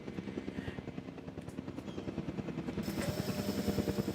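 A helicopter in the video game Jurassic World Evolution 2 gives a steady, rapid rotor chop, fairly soft and continuous, with a brighter whine entering toward the end.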